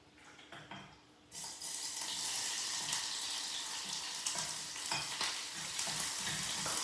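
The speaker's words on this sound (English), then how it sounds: "You just push the onions around to get them to cook." Onions hit hot oil and burst into loud, continuous sizzling and crackling, stirred now and then, after a brief quieter moment at the start.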